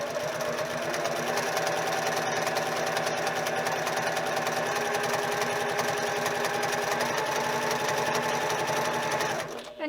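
A home sewing machine top stitching a zipper cosmetic bag with taupe thread, running at a steady fast whirring hum with rapid needle ticking, continuous and close before stopping abruptly at the end.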